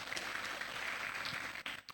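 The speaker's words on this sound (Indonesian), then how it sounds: "Berikan sorak-sorai bagi Allah kita." A church congregation at a Sunday worship service cheering and applauding, a soft wash of clapping and voices heard at a distance, fading briefly near the end.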